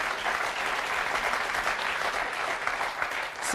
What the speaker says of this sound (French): C'est vous qu'il faut applaudir.